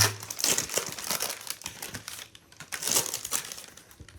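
A 1991-92 Upper Deck basketball trading card pack's foil wrapper crinkles and tears close up in quick irregular bursts of crackling, with short pauses between handfuls.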